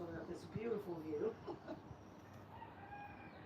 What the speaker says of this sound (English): And enjoying my rooster.